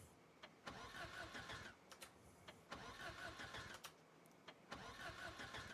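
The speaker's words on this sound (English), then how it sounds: "God, this car is never going to turn back on." A car engine cranks repeatedly in bursts without catching, each starter whir cutting off before the motor fires, then stalling into quiet between attempts.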